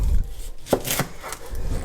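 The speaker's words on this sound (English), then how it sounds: "we're going to start by chopping this onion" A knife chops an onion on a cutting board for scalloped potatoes, giving a few sharp, distinct knocks close by, with no talking.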